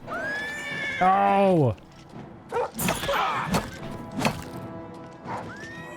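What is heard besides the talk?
horse neighing in video game Oblivion Remastered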